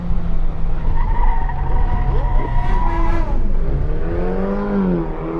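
An Audi turbo car accelerates hard through a curve, its engine note climbing and falling in loud, close revving sweeps, with tire squeal mixed in and no voices.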